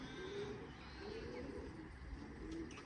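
Pigeons in a rooftop loft give soft, low, repeated coos, fairly quiet against a steady background hum, a few rounded calls spaced across the moment.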